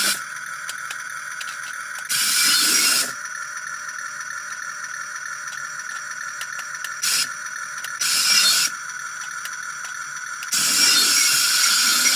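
A 1/64 scale die-cast RC excavator moves its arm, giving a steady high whine from the small motor that swells into several louder gear-grinding bursts, with no voices.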